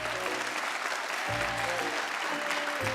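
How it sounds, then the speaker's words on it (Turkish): A Turkish TV quiz show studio audience bursts into steady, dense applause that fills the room continuously, with low murmurs and laughter-like voices mixed underneath. "Hocam bir dakika rahat rahat alkışımı alayım."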